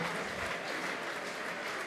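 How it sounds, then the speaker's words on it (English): A crowd applauds at an amateur boxing event in Auckland, steady dense clapping that fills the whole moment at an even, sustained level with no break. "let's give her another round of applause"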